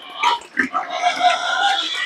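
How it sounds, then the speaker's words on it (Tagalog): Fattening pigs on a farm grunt and oink loudly and continuously, several animals close by making overlapping squeals and snorts. "pasensya na kasi masyadong maingay mga baboy."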